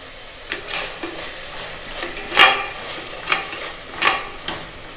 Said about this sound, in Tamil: இப்போ இந்த புதினா நல்லா வதங்கட்டும். நம்ம ஒரு 2 நிமிஷம் வெயிட் பண்ணுவோம். நல்லா கிண்டி விட்டுட்டே இருங்க.